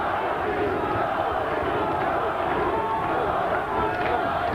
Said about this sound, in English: The crowd really getting behind their local hero